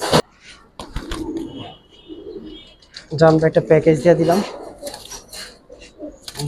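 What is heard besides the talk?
pigeons cooing (Giribaz Bagha and Jabra pigeons)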